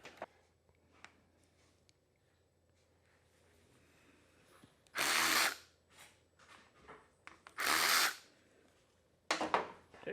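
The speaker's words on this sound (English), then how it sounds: "Let's go ahead and pop these two little screws out of the bottom and see what all else is in here." A power drill whirs in three short bursts, backing two small screws out of the bottom of a Briggs and Stratton engine on a Snapper mower, with quiet fiddling and clicks between the bursts.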